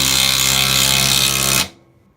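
A traditional impact driver drives a screw in one loud, steady burst of rapid hammering and whirring that runs for about a second and a half, then cuts off abruptly, with no talk.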